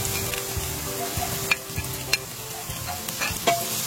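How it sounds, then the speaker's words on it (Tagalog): Chicken and onion for chicken sopas are stirred in a hot pot, with a close sizzle and sharp utensil scrapes and clinks against the metal at irregular intervals; no one speaks. "Ayan, haluin lang natin."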